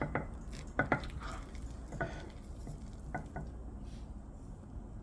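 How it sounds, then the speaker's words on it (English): A large scoop-and-serve spatula digs into a dish of shepherd's pie with soft scraping and a few sharp clinks against the pan, faint and close, spread over several seconds. "I'm going to use the fabulously huge scoop and serve spatula to serve this"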